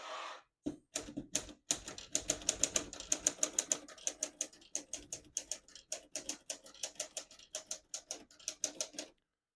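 Keys striking on a 1936 Corona Standard Flat Top portable typewriter, a quick run of crisp clacks with a few short pauses near the start, then steady, close typing.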